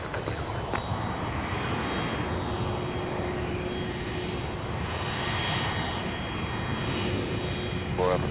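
Aircraft engine roar from a plane departing Louisville SDF airport, a loud sustained rumble that holds steady throughout, with brief radio bursts at the start and end.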